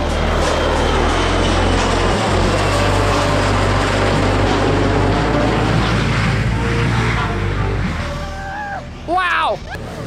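A loud, roaring jet engine sweeps low overhead at Maho Beach, St. Martin, as a plane comes in to land, swelling and filling the air for several seconds before fading, with excited voices and shouts rising at the end.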